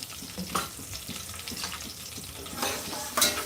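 Chili curry (mirchi pulusu) fries on a stove with steady sizzling and occasional sharp pops and spatters, close and fairly loud, with no voices.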